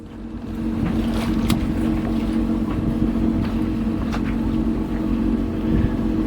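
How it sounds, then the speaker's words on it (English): A generator drones steadily aboard a boat in Florida, a continuous low mechanical hum mixed with wind noise and faint clicks, fairly close and with no talking. "You can hear the generator running."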